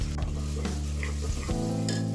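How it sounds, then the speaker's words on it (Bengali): Chopped onion fries in oil for a chicken and potato curry, crackling with a steady close sizzle broken by a few stirring scrapes and taps. "এখানে তেলের উপর পেঁয়াজ কুচি দিয়ে দিলাম"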